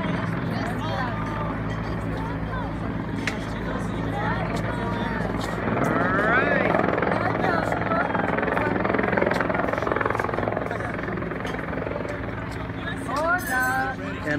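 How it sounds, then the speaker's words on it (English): A Los Angeles City Fire Department helicopter landing beside an outdoor amphitheater, a loud steady rotor thrum and turbine whine, close and continuous, with voices talking over it. "LA City Fire 1 landing next to Starlight Bowl"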